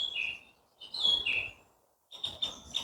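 Several songbirds sing and chirp in early-morning woodland, bright repeated phrases in bursts with a short lull between, moderately close and clear with no talk.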